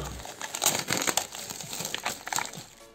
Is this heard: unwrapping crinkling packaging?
yes